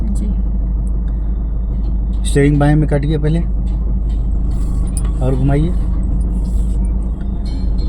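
A car engine runs at a steady low rumble during a driving lesson in a stationary car, continuing beneath an instructor's spoken directions.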